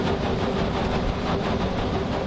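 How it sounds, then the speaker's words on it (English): An old V&T steam train running near Carson City, a dense, steady rumble and clatter of rolling cars and engine with no pauses, fairly loud and close throughout. "That's what those old trains sounded like."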